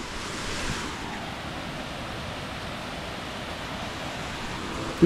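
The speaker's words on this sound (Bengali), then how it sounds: "তোমাকে ঝর্ণা ঘোরাতে আনলাম" Rushing water at a small waterfall at Kunti Ghat in Hooghly, a steady broadband roar filling the whole stretch with wind buffeting the microphone, loud and continuous with no talk.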